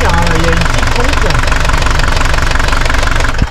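A van's engine runs after the air has been pumped out of its fuel line, a loud, continuous knocking clatter that holds steady throughout, with someone speaking over it.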